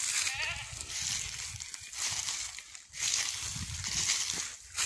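A goat bleating on a farm with gungo peas and coconut trees, wavering bleats under steady outdoor noise and sloshing water, moderately faint and at a distance.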